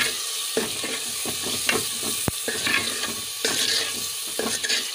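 Tomatoes fry in masala in a pot for dal, giving a steady sizzle with repeated stirring scrapes and soft clinks, close by, with no talking.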